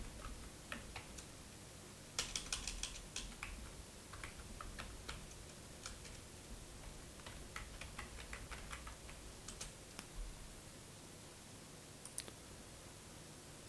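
Faint, irregular clicking of a computer keyboard as city names are typed into SPSS data entry, with scattered keystrokes and brief bursts over a steady low hiss.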